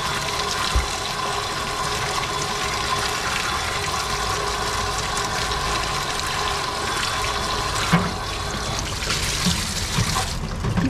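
Tap water runs continuously while plants are washed, a steady rushing, splashing flow at constant level for about eleven seconds with a few faint clunks and no talking.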